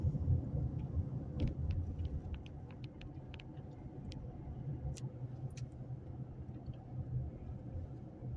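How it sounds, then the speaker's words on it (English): Vehicles approach on a one-lane road, heard as a steady low engine rumble and road noise from inside a car, continuous and moderately loud throughout, with a few faint ticks and taps on top. "I got some vehicles coming, and this is a one-lane road"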